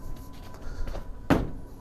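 A hand bangs against the body of a Fiat 500, giving one dull, fairly soft thump near the end after faint handling noises, close and brief.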